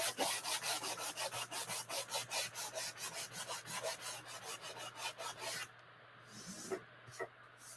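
A corner of heavy-grit sandpaper scrubs painted wood in quick rhythmic strokes, close and fairly quiet, about twenty passes before it stops and only faint scraping remains.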